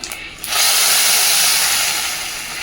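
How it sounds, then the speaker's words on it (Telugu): Hot tempering of dried chillies and curry leaves poured into boiling rasam gives a loud, sustained hiss and sizzle that bursts up after a brief quiet moment and slowly fades. "చారైతే మరిగిపోయింది పోపు వేసేసుకుందాము"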